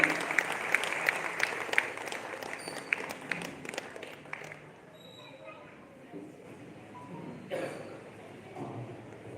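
Applause from the audience at a comic poetry gathering in a Jain hall, a dense crowd clapping at moderate distance that fades after a few seconds into room murmur and voices.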